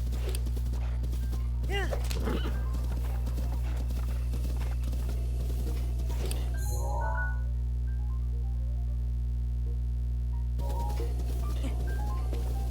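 Horse hooves clip-clop at a walking pace in The Legend of Zelda: Breath of the Wild, steady over constant low game music, with a brief pause partway through before the footfalls resume.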